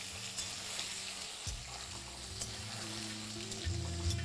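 Potatoes fry in oil with salt and turmeric, a steady close sizzle running throughout, with a faint low hum of a flame beneath and no talking.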